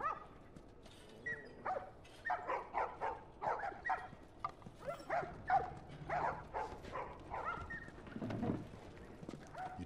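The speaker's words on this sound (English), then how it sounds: "You got a lovely puppy back." A dog barks repeatedly in The Last of Us, a steady series of sharp, mid-distance woofs running through the whole stretch with faint game ambience beneath.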